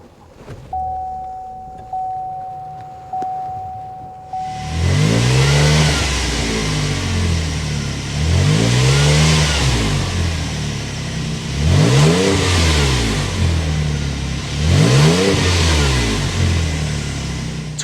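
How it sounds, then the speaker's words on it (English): A 2024 Buick Enclave Avenir's V6 starts up after a few chimes, then settles into idle with three strong revs of the exhaust, loud and close, with no talking. "start it up so you can hear that exhaust note."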